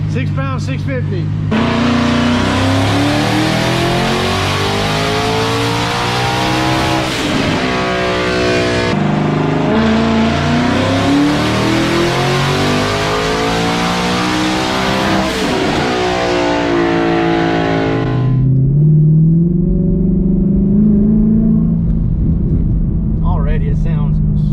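A twin-turbo 2020 Mustang GT running on E85, its engine revving loud and close, pitch climbing and falling through long sweeps before dropping to a deep idle-like rumble, with voices over it.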